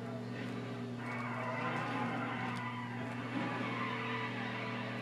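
A car drifts and skids through corners in a racing video game, a steady engine drone with squealing tire tones held continuously at fairly constant loudness; the car has poor handling.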